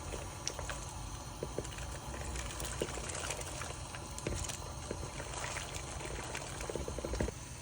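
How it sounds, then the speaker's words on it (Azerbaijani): Chopped cabbage goes into a pot of boiling water, giving soft watery splashes and a faint bubbling simmer, quiet and close, with a few light knocks along the way. "Kələmləri suyun içərisinə əlavə edirəm."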